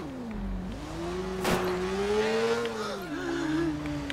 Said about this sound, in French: Oh, une moto.